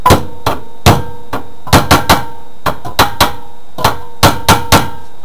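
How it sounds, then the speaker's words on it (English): Sharp metallic hammer taps seat a fan bearing on a 1959 Gravely walk-behind tractor, ringing out repeatedly in small clusters, close and loud, with brief pauses between groups. "just take and give that a light tap or two with the hammer"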